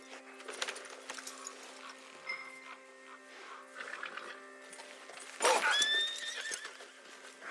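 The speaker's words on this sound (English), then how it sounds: "What are you doing to that horse?" Horse in the Red Dead Redemption 2 video game, with soft hoof clip-clops and shuffling early on, then a loud, rising whinny near the end.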